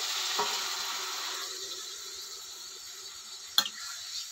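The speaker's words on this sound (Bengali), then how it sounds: "ভালো করে নাড়াচাড়া করে মিশিয়ে নিচ্ছি" Papaya and moong dal curry being stirred in a pan, with a soft, steady sizzle and faint scraping, a single sharper clatter near the end and no talking.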